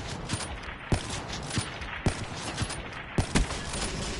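Gunfire from a Black Ops 3 multiplayer match, a string of sharp shots at irregular intervals over a busy, steady game background with no talk.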